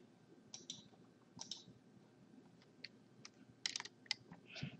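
Keys on a PC keyboard are pressed in a quiet room, a few sparse close clicks followed by a quick cluster of taps near the end.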